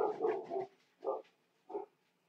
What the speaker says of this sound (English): There goes my dogs again.